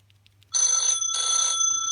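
A smartphone sounds an alert chime from a Find My iPhone locate request, two loud bright ringing bursts in quick succession over a quiet low hum, with faint clicks just before.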